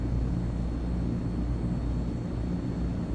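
Twin turboprop engines of a Transall C-160 transport in the MSFS 2024 flight simulator, a loud steady droning roar with a low throbbing hum that holds constant throughout, with no talking.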